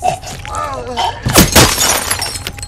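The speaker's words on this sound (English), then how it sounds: "The bullet breaks the glass to penetrate the driver's flesh" A sharp gunshot crack followed by car window glass shattering, with a burst of breaking shards after some faint voice-like sounds at the start.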